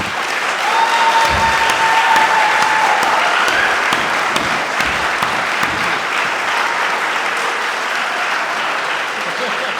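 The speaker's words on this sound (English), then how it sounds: "This is where you get to applaud them for their effort." An audience at a candidate forum applauds the candidates with loud, dense clapping that holds steady throughout, while a faint tone drifts briefly above it.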